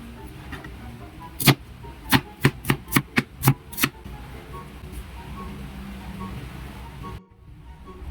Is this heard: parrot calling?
no